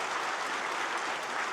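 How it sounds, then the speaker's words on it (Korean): A church congregation claps together during a Christmas service after a choir and orchestra performance, a steady, even wash of applause filling the room with no voices. "우리 성탄절 맞아서 박수 선물 한번 하겠습니다"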